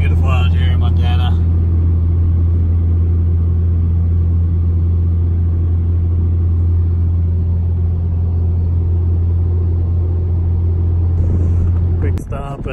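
A hotshot truck cruising a Montana road gives off a constant low engine drone and road rumble from inside the cab, with brief talk at the start and end.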